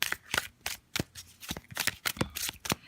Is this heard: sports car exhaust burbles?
no